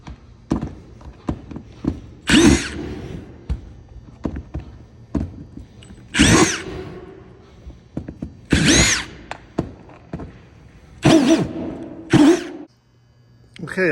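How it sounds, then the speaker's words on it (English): Power drill backing screws out of a truck camper roof during a rebuild, several short whirring bursts separated by pauses, with clicks, taps and handling noise between them. "I decided there were way too many screws to take out by hand, so I went and grabbed the power tool."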